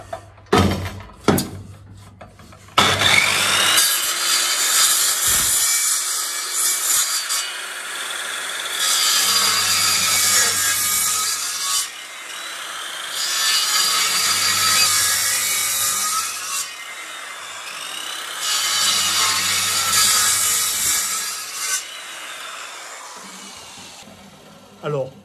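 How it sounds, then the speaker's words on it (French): A hand-held portable circular saw cuts wood for a roof support bracket, with three long loud cutting passes, each broken by pauses, and a few knocks before the first cut. "avec la scie circulaire à main, la portative"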